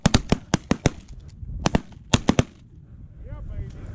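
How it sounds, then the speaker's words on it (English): Shotgun shots fired at geese during a goose hunt, a rapid volley of loud, sharp blasts in quick succession followed by a second tight burst of three, then open outdoor quiet. "Shoot him, Mark."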